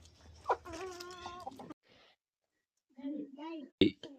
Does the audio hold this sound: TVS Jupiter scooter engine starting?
no